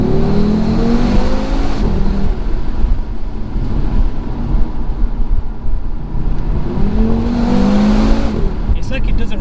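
A 2020 Audi RS3's engine pulls hard through the gears from inside the car, its loud rising drone climbing in pitch, easing off, then surging again.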